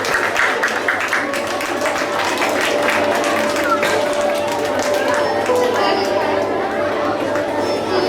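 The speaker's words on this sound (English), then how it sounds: "Give a big round of applause to them." Applause from a school assembly crowd for prize winners, a steady dense wash of clapping mixed with crowd chatter throughout.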